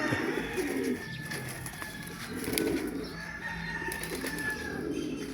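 Racing pigeons coo softly in a loft, a few overlapping throaty calls rising and falling, with light wing flaps and faint background noise.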